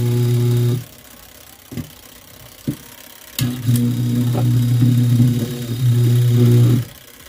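A washing machine motor in good condition runs on its wash timer cycle, reversing direction: a loud steady hum, a quiet pause with a few clicks, then a long humming run that surges before cutting off.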